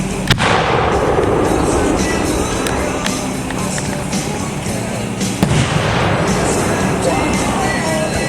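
Two 8-inch Young Fang aerial shells from a 1.3 class firework assortment burst outdoors, opening with a sharp boom followed by a dense, continuous crackle and rumble and a second loud report about five seconds later.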